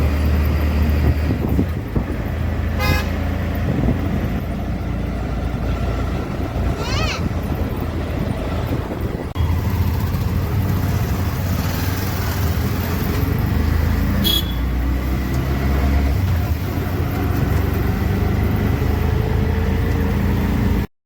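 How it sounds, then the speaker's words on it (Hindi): Riding in an auto rickshaw through city traffic toward an ISKCON temple brings a constant engine rumble and road noise, with passing vehicles and a few horn-like tones, while voices talk over it. "अब जा रही इस्कॉन टेम्पल, अभी ऑटो में है।"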